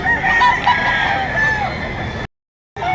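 A gamefowl rooster crows loudly and nearby over a noisy, busy background at a rooster sale in Lipa, Batangas, and then the sound cuts out abruptly for a moment.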